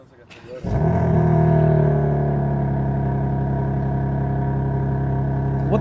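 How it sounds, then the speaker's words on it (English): A BMW M3 with its stock exhaust is remote started: a brief whir and catch, then a steady, quiet idle with a smooth low hum that holds unchanged through the rest. "We're gonna remote start the car."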